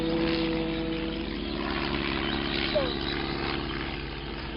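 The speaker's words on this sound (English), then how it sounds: "Second time you've seen that plane." A propeller airplane drones steadily overhead in the countryside, a continuous moderate engine hum that holds level for several seconds with no voices.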